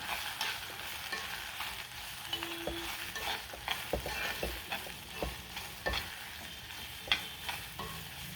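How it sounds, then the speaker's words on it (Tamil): Coarsely ground pirandai fries with garlic in oil, giving a soft, fairly quiet sizzle with repeated stirring scrapes and clinks of a spoon against the pan. "பூண்டு நல்லா வதங்கிட்டு எண்ணெயில் இப்போமா நம்ம வந்து குறகுறப்பாக அரைச்சி வைத்த பிரண்டை பிரண்டை இதோடு சேர்த்து நல்லா இந்த எண்ணெயில் வதக்கி வச்சுக்கலாம்"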